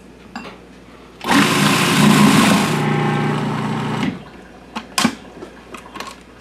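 An electric mixer blends cream cheese and sugar for a gingerbread cheesecake, a loud whirring buzz lasting about three seconds before stopping, followed by scattered clinks and knocks.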